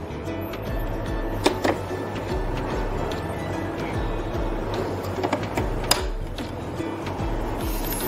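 An iMAC120 ECG machine's printer runs continuously with a steady mechanical whir and faint rhythmic ticking, close and moderately loud, with no voices.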